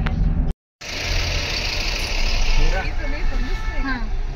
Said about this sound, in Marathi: एवढं ट्रॅफिक जाम झाले